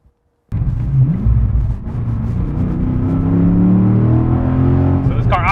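A V8-swapped Porsche 911 with a stage 3 Summit cam and a loud aftermarket exhaust fires up abruptly after a brief silence, then runs at a steady, heavy idle with rising revs, close and loud throughout.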